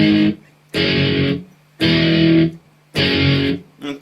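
Distorted electric guitar plays the chorus chords of a song in three loud, sustained strums separated by short gaps, with a fourth starting at the end.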